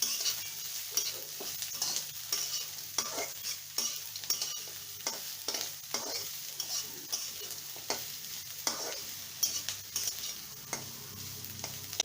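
Chopped potato, capsicum and grated carrot are stirred in a frying pan for oats upma, giving a steady sizzle broken by repeated scraping strokes of the spoon, close and fairly quiet, with no talking.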